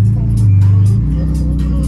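A Porsche 911 GT2 RS at a gymkhana event runs close and loud, its engine note holding, then shifting pitch as it revs, with some voices mixed in.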